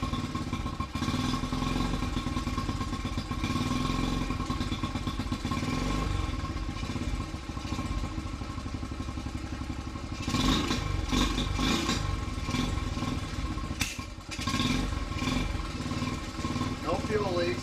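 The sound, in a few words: Honda CT70 motorcycle engine running on choke with XR70 carburetor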